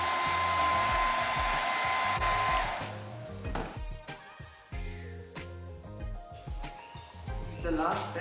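A hair dryer blows hot air onto a 3M adhesive pad for a chin-mounted action camera on a motorcycle helmet, a steady close whir for the first few seconds before it cuts off and handling noises and voices follow.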